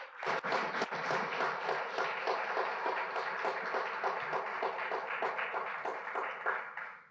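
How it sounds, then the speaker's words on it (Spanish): A church congregation gives sustained, energetic applause: many hands clapping together loudly for about seven seconds before it fades. "Vamos a dar un aplauso al Señor"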